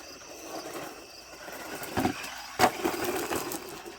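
A Holyton 1:10 scale remote control car drives with a child riding it, giving a low motor whir with a couple of sharp bumps and rattles partway through, no talking.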